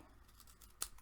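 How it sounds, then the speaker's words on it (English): A single sharp, close snip of scissors trimming excess paper off a triangle for a mini scrapbook album, alone in a quiet room. "just take your scissors and cut that off"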